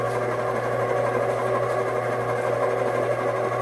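An electric mixer whirs steadily through orange pound cake batter, a close, even motor hum with a rhythmic buzz that runs unbroken for a few seconds before cutting off at the end.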